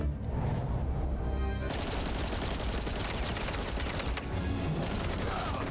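Dense, sustained gunfire from an animated Batman episode, rapid overlapping shots forming a loud continuous fusillade with a brief gap near the middle.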